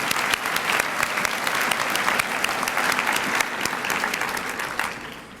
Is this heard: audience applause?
yes